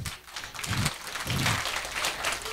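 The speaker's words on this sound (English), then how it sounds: "Big round of applause for them." An audience claps for four team leaders called up to the front, a soft, moderately dense round of applause heard from a distance with a few low thumps mixed in.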